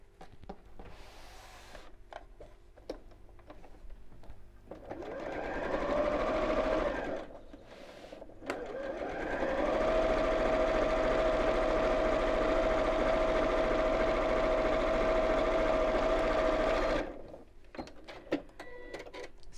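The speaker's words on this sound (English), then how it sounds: "we're going to sew straight across the top, and do that with both pieces." A sewing machine runs close by, stitching straight across the top of fabric pieces for a drawstring balloon pouch, with a short burst followed by a long continuous steady whirring run, then handling rustles as it stops.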